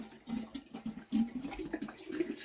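Water splashes and gurgles as it is poured into a Villiers WX11 engine, a steady liquid rush with uneven surges, fairly close.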